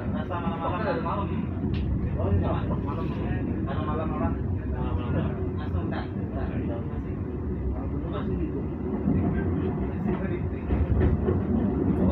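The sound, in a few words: train arriving at station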